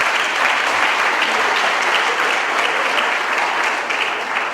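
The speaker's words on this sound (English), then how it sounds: "Colleagues, give you a big round of applause." Loud, sustained applause from an audience of university colleagues at a Vaal University of Technology morning session, a dense even wash of clapping that holds steady throughout.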